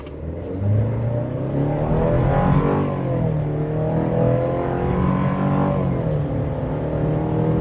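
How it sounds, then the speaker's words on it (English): A midsize pickup truck engine revs hard and accelerates steadily from 0 to 60 mph, its pitch climbing through the gears with a loud, continuous roar throughout. "it's a little noisy, and it's the engine, it's not the exhaust"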